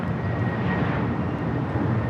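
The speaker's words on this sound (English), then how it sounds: "This arrival on 24 rights is Delta Airlines 753 coming in from Atlanta on the A321" A Delta Airlines Airbus A321 arriving from Atlanta roars in on runway 24 right at LAX, a loud, steady, broadband jet rumble that holds throughout the short clip, with no talk.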